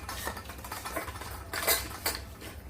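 Rice for pets being mixed by hand in a metal bowl, with soft irregular scraping and light clinks close by and quiet, no voices.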